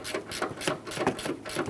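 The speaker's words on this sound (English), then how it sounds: "I'm going to switch over to our gear wrench for the 2 outer ones here." A ratcheting gear wrench undoes strut mount nuts on a 2011-2019 Ford Explorer, giving a quick series of close, rhythmic clicking ratchet strokes.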